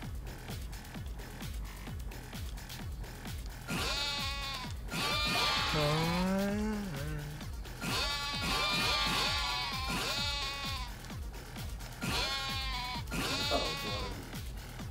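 Sheep bleat repeatedly in a Yakuza 7 video game minigame, with several wavering cries in clusters over a steady game music bed and some quiet talk.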